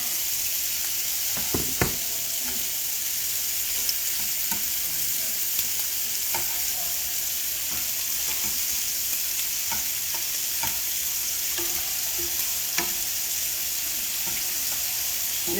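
Shrimp sizzle in a pan for creamy salmon and shrimp pasta, a steady, bright hiss throughout, with scattered pops and a few light tong clicks as pieces are turned.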